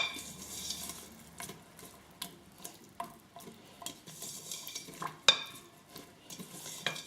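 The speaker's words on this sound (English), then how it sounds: "I'm going to stir that in." Neem and oregano are stirred into hair oil, giving a series of soft scrapes and clinks from a utensil against a container in an irregular rhythm, close and quiet with no talk.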